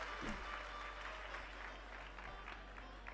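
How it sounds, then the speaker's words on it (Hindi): An audience claps steadily for a few seconds, a soft, dense patter of many hands heard from a distance. "ताली बजाओ"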